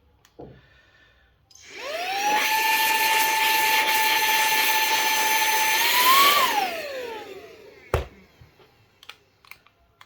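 A burst of air blows dust out of a clock with a steady, close whining hiss lasting about five seconds. Its pitch bends and fades at the end, and a sharp click follows.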